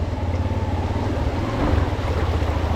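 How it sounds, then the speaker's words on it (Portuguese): Rushing water from the Cachoeira do Espraiado waterfall beside a road in Maricá, RJ, heard from a Yamaha Lander 250cc on a riverside ride, a steady loud broadband roar with low rumble throughout. "Cachoeira vai passando aqui, ó, no meio da estrada."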